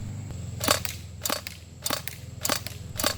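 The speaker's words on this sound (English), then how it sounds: "It has an unusual deep resonating double action sound, which makes it very distinctive on the playing field." An Umarex HK UMP45 Elite airsoft gun fires five sharp, evenly spaced single shots about half a second apart. Each shot is close and punchy over a low steady mechanical hum, with no talking.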